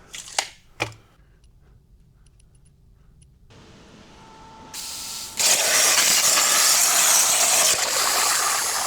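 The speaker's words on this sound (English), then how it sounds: "Now we're just going to throw some welds on this in 4 spots." Steel base for a dirt bike tire changer being welded: a few sharp metallic clanks and a faint tone, then a loud, steady crackling hiss of the weld that holds through to the end.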